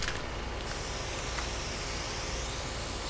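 Krylon water-based latex spray paint hisses steadily from a can onto a homemade foam skimboard, a continuous close, even spray lasting the whole stretch with no talking.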